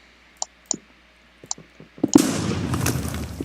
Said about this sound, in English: if you can get fortune on it, then it's that big explosion and it rains the ore down